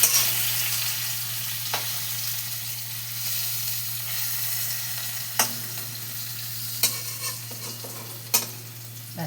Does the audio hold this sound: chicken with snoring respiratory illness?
no